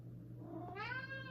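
A pet cat at home gives a single rising, drawn-out meow, close and clear over a steady low hum, with no talk.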